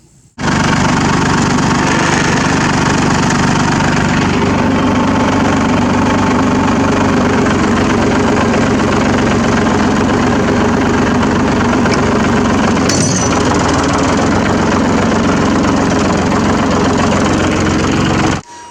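An old engine, found and test-driven near a tractor in muddy ground, runs loud and close with an open exhaust, a rough continuous idle with knocking pulses that holds steady for about eighteen seconds with one brief dip.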